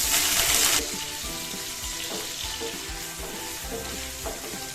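A small potato fries in oil for a dhaba-style mixed vegetable dish, giving a steady, close crackling sizzle that starts with a brief louder hiss and is then stirred with low scraping and clinks.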